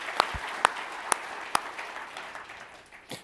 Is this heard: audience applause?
yes